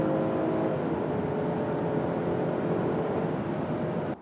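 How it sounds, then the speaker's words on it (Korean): Hyundai Palisade facelift engine running in sport mode, a steady, continuous hum and drone with no clear rev changes, loud and close, heard alone without talk. "스포츠 모드로 했을 때 엔진음"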